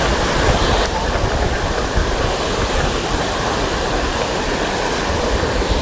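Sea waves at Hope Island near Kakinada, a dense, constant roar of surf that stays loud and close throughout, with no voices.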